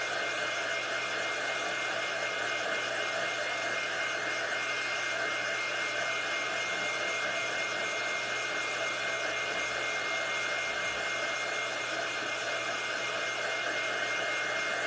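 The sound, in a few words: hair dryer drying felt reindeer ears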